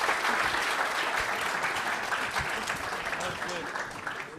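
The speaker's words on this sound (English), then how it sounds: "Can we have a round of applause for HomeWare?" Audience applause at a startup pitch competition, a steady wash of many hands clapping, moderately distant and fairly even throughout, with a voice faintly present underneath.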